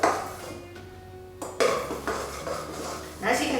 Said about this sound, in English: we need to slowly add in our liquid starch. While we're doing it, we need to just keep stirring.